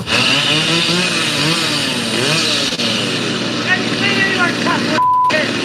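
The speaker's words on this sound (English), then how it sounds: "Intimidation with a chainsaw." A chainsaw snarls close by, revving up and down continuously with rough, buzzing bursts over several seconds, with voices mixed in beneath it.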